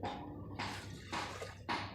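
Water trickles slowly into an LG inverter 11 kg automatic washing machine with a weak inflow fault, a quiet hissing flow that swells and fades in uneven pulses.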